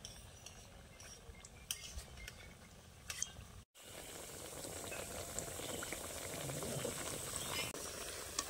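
Tea-time snacks frying in hot oil bubble and sizzle steadily, faint at first, then fuller and louder after a brief break, with no talking.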